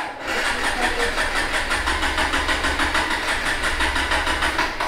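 A Hero Xpulse 200 4V BS6 motorcycle engine with a fault catches and runs at a steady, throbbing idle, loud and close, with a rhythmic pulsing beat throughout.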